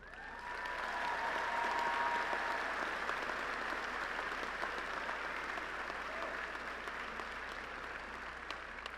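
Audience applause for master's degree recipients at a Lamar University engineering commencement, a broad, sustained clapping that rises quickly and slowly tapers, somewhat distant and reverberant.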